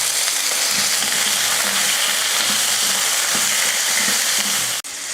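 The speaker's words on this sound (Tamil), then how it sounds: "வெங்காயமும் தக்காளியும் நல்லா வதங்கிடுச்சு." Onions, tomatoes and garlic sauté in hot oil with a steady, loud sizzle, broken by soft rhythmic thumps of stirring and a sharp clack just before the end.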